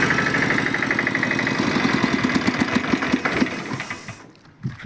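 An engine runs steadily with a fast, even mechanical chatter after its battery was recharged, close and fairly loud, and cuts off abruptly near the end.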